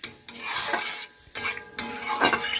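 Boiled potatoes are stirred and fried in a pan, with a utensil scraping and clinking against the metal in three distinct bursts over a soft background sizzle.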